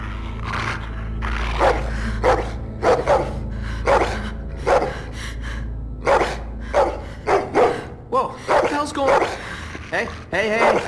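A dog barks repeatedly in loud, close bursts, with whimpers and yips between barks, over a low steady hum in a tense dramatic scene.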